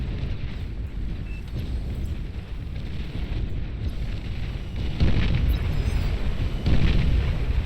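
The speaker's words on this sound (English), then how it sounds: "Nuclear bombers targeting down some of the structures over there" Nuclear bombers striking structures in the strategy game Beyond All Reason, with a continuous rumbling roar of explosions and two heavier booming bursts toward the end, dense and loud throughout.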